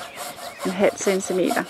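A hand saw takes 0.5 cm off the top of a wooden fence post in a few short rasping strokes, with someone speaking Danish over most of them.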